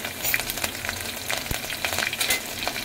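Finely chopped green chilies dropped into hot oil with browned garlic, giving busy, crackling frying with bursts of spatter and a stir or two, close and fairly loud.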